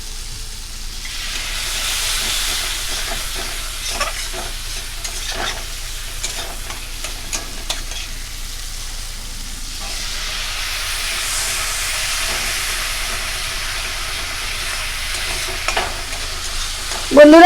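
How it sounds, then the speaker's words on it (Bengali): Spice masala with water stirs and fries in a pan, a steady sizzling hiss with soft scraping stirs throughout, close and continuous, no talking. "জল দিয়ে আমি মশলাটা ভালো করে কষিয়ে নিচ্ছি।"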